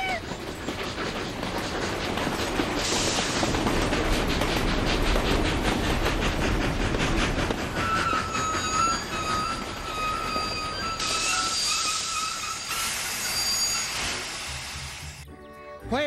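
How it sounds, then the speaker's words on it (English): A train rumbles past with rhythmic clickety-clack from the wheels, loud and sustained, with a high metallic squeal midway before the noise cuts off. "the train is coming"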